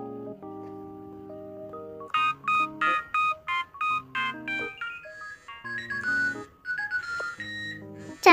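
Telephone dialing tones in a Toca Life World game: a steady ringing pattern, then a fast series of short bright beeps like keypad presses, followed by more sustained electronic tones, all clean and close.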